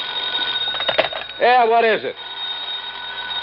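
Telephone ringing in an old radio detective drama, a short burst of trilling rings right after someone speaks, set in a quiet room.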